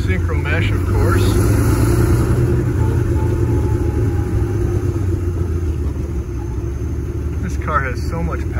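A 1939 Lincoln with a synchromesh gearbox pulls away in gear, its engine giving a steady low rumble that builds slightly as it drives off, with speech heard over the engine noise.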